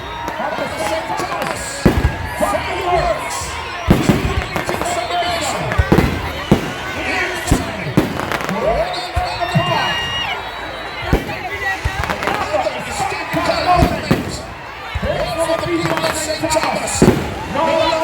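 Fireworks bursting over Morant Bay, St Thomas, Jamaica, during a 2024 display, a steady barrage of sharp booms and crackles repeating every second or so across the clip, with a crowd murmuring and calling out beneath the blasts.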